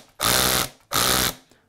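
A Black + Decker SMARTECH 20V MAX 3/8-inch cordless drill/driver drills into wood in two loud, steady bursts of whirring motor and bit noise, each about half a second long with a short pause between.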